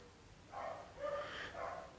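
A dog barks in a domestic setting, giving three short, moderately faint barks in quick succession with a low background hum and no talking over them.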